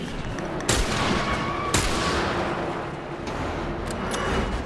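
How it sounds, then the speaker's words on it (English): Two sharp gunshots ring out in The Last of Us Remastered on PS4, each a sudden loud crack over a dense, noisy game background, spaced about a second apart with no voices. "Wasted a bullet."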